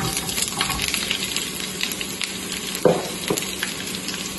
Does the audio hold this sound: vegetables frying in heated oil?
yes